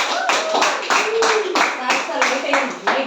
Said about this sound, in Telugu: సో అందరం క్లాప్స్ తో, ఎక్సైట్మెంట్ తో